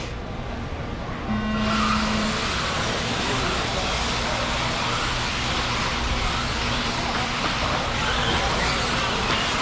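Electric 13.5-class four-wheel-drive RC cars race at a track, a start tone sounding before a loud, continuous whine of many small motors and tires rushes in and holds.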